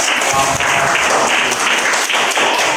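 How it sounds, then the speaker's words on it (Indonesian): Students clap together in a school classroom at the end of a group presentation, a loud, dense burst of steady applause with no talking over it. "Silakan beri apresiasi tepuk tangan"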